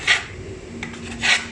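Two quick raspy scrapes of a dull kitchen knife being sharpened, one at the start and one near the end, with faint metallic rubbing between them.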